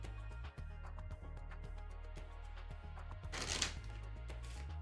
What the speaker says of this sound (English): I don't know if you guys can hear the shuffling.